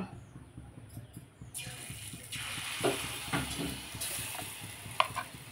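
Semolina batter dropped in small dumplings into hot oil for motichoor laddu, with sizzling bursting up as each portion hits the oil, plus stirring scrapes and a sharp clink near the end.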